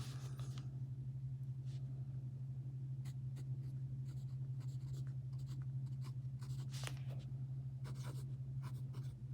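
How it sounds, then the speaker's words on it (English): A fountain pen filled with bottled ink scratches across paper in short, quiet strokes and scribbles, set against a constant low hum, with no voices. "I'm writing off the edge of the book here."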